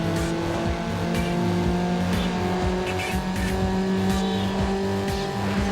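Racing car engine from the Need For Speed Underground video game on PS2 drones steadily at high revs, with repeated tire squeals and skidding over the top throughout, no voices.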